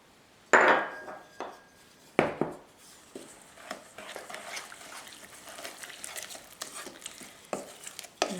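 Flour and instant yeast tipped into a whole grain bread batter and mixed by hand, giving two sharp knocks early on, then a run of soft, steady stirring scrapes and light taps close by.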